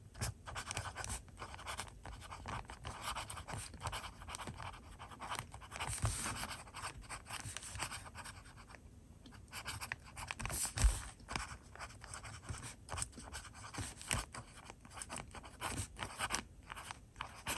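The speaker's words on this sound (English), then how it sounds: "So we'll do the joined up writing first." Pen moving across paper in joined-up cursive handwriting, a steady continuous scratching with brief lifts and pauses, close and fairly quiet, with no talking.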